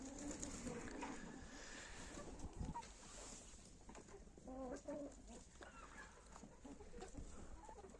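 Chickens cluck softly around a farmyard at morning feeding time, with a rooster-like call mixed into low, steady outdoor background noise.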